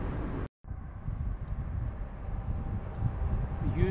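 A strong headwind buffets the microphone during a long-distance bicycle ride between Uşak and Isparta, Turkey: a steady, loud, low roar with one brief dropout near the start.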